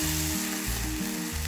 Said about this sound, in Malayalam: ശേഷം അരച്ച് വെച്ചിരിക്കുന്ന അരപ്പ് ചേർക്കാം.